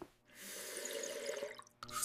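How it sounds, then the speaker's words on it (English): Water swishes and sloshes in a mouth during rinsing after brushing teeth, a steady close gurgling wash with a short break near the end before a brief splash. "Now, rinse your mouth with water"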